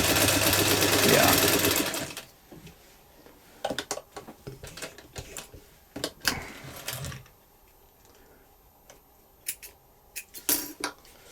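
A budget leather sewing machine stitching through leather, its motor running in a loud steady burst at first, then short uneven runs of stitching with clicks and knocks from the mechanism, some passages slower and straining.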